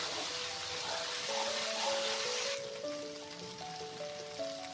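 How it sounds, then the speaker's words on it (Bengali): Chili powder, cumin powder and turmeric fry in oil for vegetarian Bengali ghugni, a soft, even sizzling hiss under gentle background music. "দিয়ে আমি এই মশলাটাকেও কিছুক্ষণ নাড়াচাড়া করে ভেজে নেব"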